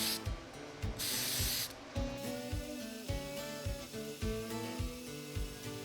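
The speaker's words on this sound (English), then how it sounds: "And this is just some accelerator for CA glue." CA glue accelerator sprayed during a wooden boat build, one loud hissing burst of under a second followed by a shorter puff, then rhythmic thumping and tonal background noise.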